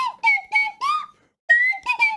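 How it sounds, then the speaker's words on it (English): Several short, bright whistle tones slide up and down in quick bursts with a brief pause in the middle, loud and close, like a slide whistle being played. "Imagine getting felted by a slide whistle."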